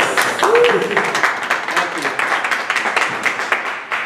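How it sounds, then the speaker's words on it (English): Audience applause at a startup pitch event, a dense wash of clapping from a room of listeners with a few brief shouts or cheers over it, moderately loud throughout. "how about a round of applause?"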